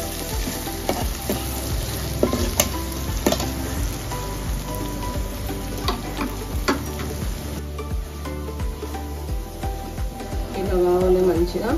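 Garlic and dried red chillies fry in hot oil with a steady, close sizzle while a spoon stirs and scrapes the pan in irregular knocks; a voice speaks at times over the cooking.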